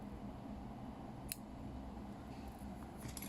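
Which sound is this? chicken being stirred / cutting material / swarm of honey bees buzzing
cutting material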